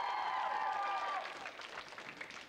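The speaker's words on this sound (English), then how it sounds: "So give a round of applause." Studio audience applauding on a 1994 television game show, a steady burst of clapping that starts full and thins out after about a second, with faint talk mixed in.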